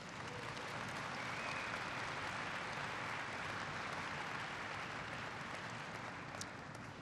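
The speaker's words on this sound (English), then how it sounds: "That's worth applauding." An audience applauding at a presidential speech on middle-class jobs, a dense, even wash of clapping that holds steady throughout at moderate distance with no speech over it.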